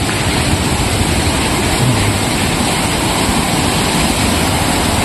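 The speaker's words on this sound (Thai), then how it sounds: "นี่คือน้ำตกนะครับเนี่ย" Constant roar of a waterfall at Mae Moei National Park, a loud, broadband wash of falling water heard close up with no break in its steady intensity.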